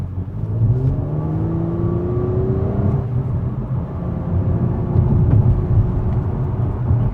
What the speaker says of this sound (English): it will actually simulate shifts under hard acceleration.